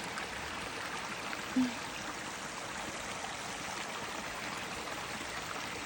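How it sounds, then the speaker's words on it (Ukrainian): A small waterfall on a river splashes in a steady, even wash of noise, with one faint knock early on. "Тут такий водоспадик."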